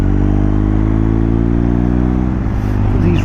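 A BMW R 1250 GS TE motorcycle under way, a loud steady engine drone with a low throbbing hum and wind rush, close and continuous with no change in pace.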